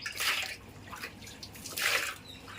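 Water splashes and pours into a container holding freshly caught fish during flood fishing from a house veranda, with two louder gushes about a second and a half apart and a softer trickle between them.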